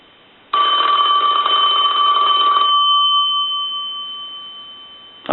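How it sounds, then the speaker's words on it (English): A repaired Western Electric five-line telephone with hold rings its bell loudly and close up, a single sustained metallic ring that stops and leaves a long decaying tone. "we want to go ahead and ring the unit and start our final checks"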